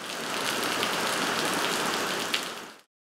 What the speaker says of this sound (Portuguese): Muita água mesmo e a chuva continuou durante a tarde.